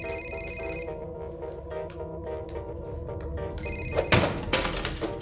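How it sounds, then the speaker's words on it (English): A telephone rings in repeated electronic bursts, steady and fairly close, before a louder burst of broadband noise near the end; no talking. "Next person whose phone rings has to eat it!"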